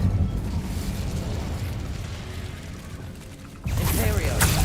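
Incendio fire spell cast in Hogwarts Legacy, a rumbling mechanical whoosh that drops briefly before a sharp, bright fiery burst erupts near the end.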